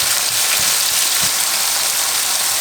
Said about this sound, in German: Jetzt kommen die Karotten rein oder die Möhrchen und die tun wir auch so 2 Minütchen anbraten.